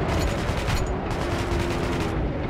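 Gunfire in the shooter Metro 2033, a fast continuous rattle of close, loud automatic shots with heavy booming low end, running almost without pause through the clip.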